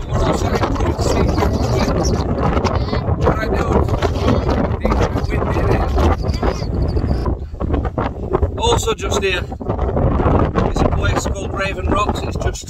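Strong gusts buffet the microphone in a constant roaring rumble at West Nab in the Peak District, with a voice speaking briefly under the wind noise.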